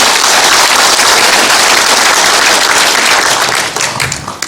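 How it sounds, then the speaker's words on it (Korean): An audience at a city mayor's briefing on large civil engineering projects gives loud, dense applause that holds steady and then tapers off in the last second. "다시 한번 우리 시민시장 모두에게 감사의 박수 한번 보내주시기 바랍니다."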